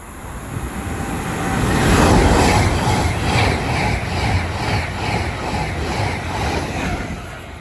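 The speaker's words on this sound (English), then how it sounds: "Soon to pass through now will be Avanti West Coast service going from Glasgow Central to London Euston" Avanti West Coast train from Glasgow Central to London Euston passes through Milton Keynes Central on the West Coast Main Line, a loud sustained rushing roar with a rhythmic wheel clatter, building to a peak then holding steady.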